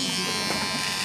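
A Moser electric shaver runs with a steady, close, loud buzzing hum while people talk over it.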